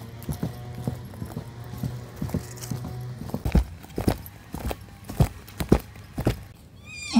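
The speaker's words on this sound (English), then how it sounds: "I think I see some wild horses." Wild horses on the move, their hooves clip-clopping in scattered, uneven beats that build in the second half, with a brief whinny near the end.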